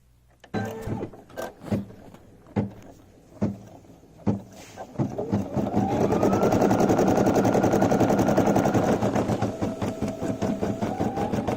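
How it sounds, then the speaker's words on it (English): A fast-stitching Brother embroidery machine sews a design with regular thread for a pillow case: several separate mechanical clacks, then a steady, loud, rapid whirring stitch rhythm that keeps going to the end. "I do have a machine that stitches pretty fast, I want to kind of see how it stitches on the first little thing here"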